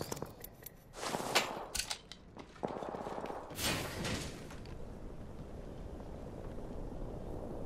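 Gunfire in the battle royale game Apex Legends: a few sharp, fairly close shots and short bursts at the start, then the firing stops and a steady low background remains.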